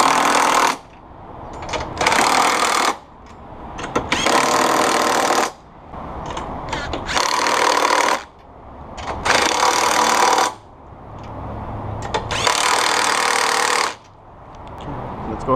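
Power tool tightening the top mounts on a Scion FR-S with KW Variant 3 coilovers, several loud bursts of a couple of seconds each with short pauses between them, close up, with no talking.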